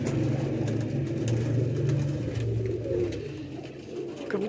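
Several colourful pigeons coo in a low, continuous murmur close by inside a pigeon loft, with faint engine rumble in the background and no talking.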